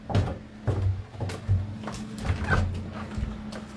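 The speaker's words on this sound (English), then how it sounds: "And there is a dog down here." A dog's soft whimpers and short yips come in a few bursts close by, with some light knocking in the room.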